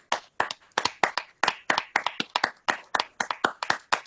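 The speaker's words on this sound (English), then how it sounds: "And a round of applause," Rhythmic handclapping from a few people at the TOSSEtech 2020 opening ceremony, close and crisp, around twenty distinct claps in a steady beat with no talking.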